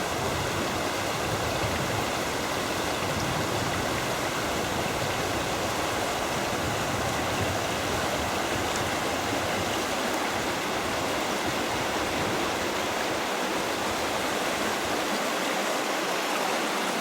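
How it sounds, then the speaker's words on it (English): A river in the Great Smoky Mountains near Elkmont runs briskly beneath a bridge, a steady, dense rushing roar of water that fills the whole stretch without pause, loud and close. "The river runs fairly briskly underneath this bridge."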